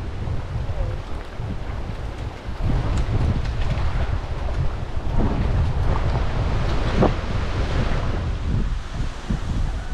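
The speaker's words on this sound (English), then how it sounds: "Bit windy." Strong wind buffets the microphone at the Wenlock River boat ramp in Cape York, a constant low rumbling roar with gusting swells and a watery surf-like wash behind it, no talking.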